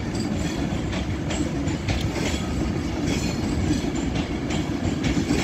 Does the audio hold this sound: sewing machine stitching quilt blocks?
no